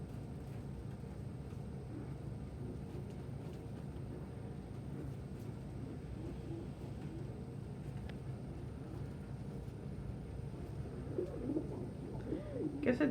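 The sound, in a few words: pet birds cooing, threatening each other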